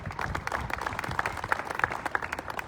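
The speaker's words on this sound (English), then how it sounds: "Hannah Tyring, let's give Hannah another round of applause." Applause from an audience at an Otters team logo unveiling, with steady, fairly close clapping from a modest group, punctuated by a few louder individual claps.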